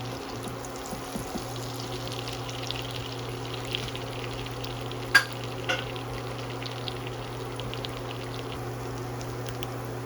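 Eggs frying in a pan while preparing miso ramen, a faint, steady sizzle with a low constant hum and a couple of brief soft clicks partway through.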